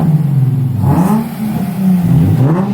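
Close, loud revving from a Nissan 350Z fitted with a custom single exit exhaust, its engine pitch rising and falling in a couple of throttle blips with no talking over it.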